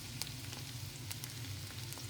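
Garlic sizzling with meat in a pot, a soft steady frying hiss with a few faint crackles, quiet and close, no voices.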